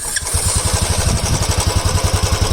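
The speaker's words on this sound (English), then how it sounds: "So guys, now let's hear the engine sound." Royal Enfield Classic 350 BS6 fuel-injected motorcycle idling close by, a steady low thumping pulse of even single-cylinder beats after a brief start, loud and alone.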